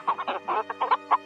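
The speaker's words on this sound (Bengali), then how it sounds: "মোরগটা পাখনা নাড়তে নাড়তে মাটিতে নেমে কোঁক কোঁক শব্দ করতে করতে একদিকে ছুটল।" A rooster clucks in a quick run of about seven short, nasal bursts, close and alone with no other sound behind it.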